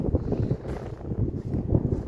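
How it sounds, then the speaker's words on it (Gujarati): Strong wind blows at the Rajpar seashore, rumbling and buffeting the microphone in uneven gusts, loud and close, with no talk. "અહીંયા પવન પવન જોરદાર છે"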